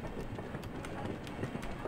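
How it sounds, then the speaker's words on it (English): A train rolls past in a Half-Life mod, a steady close rumble with faint rail clatter running throughout. "Ooh, a train."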